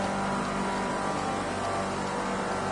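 Race car engine droning steadily through a lap in the Project Cars 2 racing game, a continuous loud hum with harmonic tones and no audible pitch swings.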